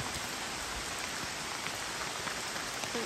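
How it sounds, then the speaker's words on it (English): Heavy rain pours steadily outdoors while walking on a holiday in Pembrokeshire, a dense, constant hiss of drops with no voices. "it is raining quite heavily and we're walking"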